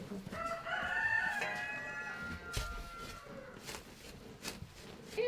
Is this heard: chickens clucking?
yes